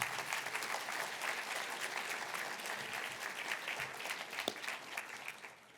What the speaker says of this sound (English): Give your family and friends another round of applause